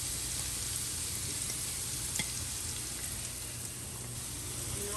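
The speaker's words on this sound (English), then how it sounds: "You hear that sizzle?" Food sears and sizzles in a hot pan during holiday feast cooking, a steady broadband crackle with scattered pops, close and fairly loud, with no talking.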